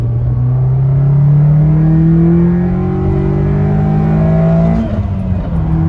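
A 1991 Nissan Sentra SE-R (B13) accelerating hard in second gear on a slight downhill, its engine note climbing steadily and loudly in pitch before a brief dip near the end, heard from inside with no talk.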